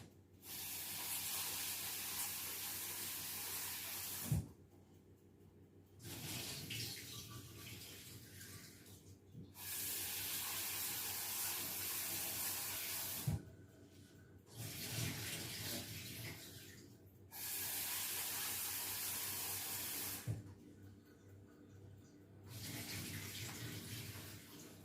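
Tap water runs in several bursts of steady hissing flow, with short quiet pauses between them, as rice is washed for Iranian sabzi polo (herbed rice).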